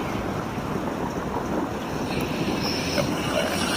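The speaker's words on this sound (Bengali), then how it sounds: "তো বাতাসের শব্দ তো আপনারা শুনতে পাচ্ছেন।" Strong wind buffets the microphone at a Dubai beach while large sea waves roll in, a loud, constant roar of gusts and surf with no talk.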